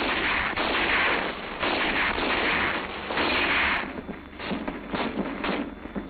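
A rifle squad in a military infantry training exercise opens rapid gunfire, with dense overlapping shots booming close and loud, rolling into a continuous roar before thinning into scattered reports.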